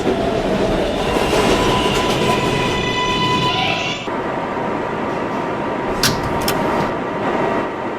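A New York 7 local subway train running between stations on the way to Kennedy-Main Street, with a steady loud rumble of wheels on rail, a whining motor tone that fades halfway, and brief squeals near the end; no talking.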